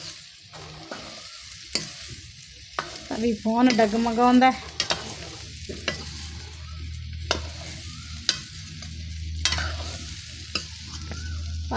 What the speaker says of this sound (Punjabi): ਲਾਤਾ ਭਿੰਡੀਆਂ ਨੂੰ ਤੜਕਾ